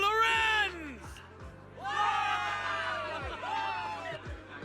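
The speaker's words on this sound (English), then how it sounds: "Cheer rises up from the gathered soldiers." A crowd of soldiers cheering in the video game Zenless Zone Zero, loud overlapping shouts and whoops in several bursts over a low steady hum, with a voice briefly rising above them.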